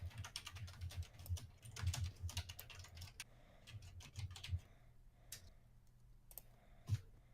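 Someone types on a computer keyboard in a rapid, uneven run of soft clicks and taps that thins out toward the end, quiet and close to the mic, with no talking.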